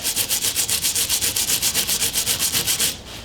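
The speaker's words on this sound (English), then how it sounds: "if I were to take this on the side with the hardener and scrub it real good" Rapid rhythmic back-and-forth scrubbing of tile grout with a towel and hardener, about six strokes per second, close and loud, stopping abruptly at the end.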